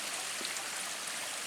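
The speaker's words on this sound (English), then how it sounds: "Found this little stream." A small forest stream in Big South Fork gives a faint, even, continuous trickle and babble of water, heard alone over a brief moment.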